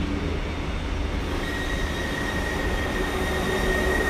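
Atlantique train pulling into Bordeaux station, a steady close rumble of wheels and carriages with thin high squealing tones drifting above it, no voices.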